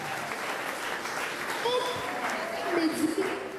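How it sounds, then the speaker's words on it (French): An audience in a hall applauds at a public event, a steady crackle of clapping hands running throughout with voices over it. "Donc, madame, on peut applaudir encore"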